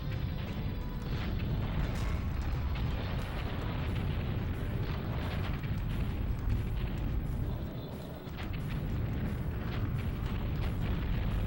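Continuous loud rumbling explosions and booming blasts from shooting a hover tank in the Battletanx: Global Assault video game, a dense, unbroken roar with a brief dip in the middle.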